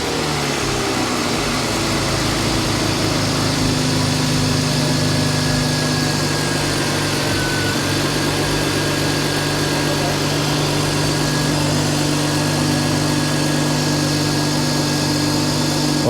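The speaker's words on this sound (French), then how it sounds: "on va pouvoir tenter un premier démarrage" BMW E39 525i inline-six M54 engine, 192 hp, with a lambda sensor and valve cover gasket fault, catches and settles into a steady, loud idle with a constant low hum and vibration that runs unbroken from start to finish.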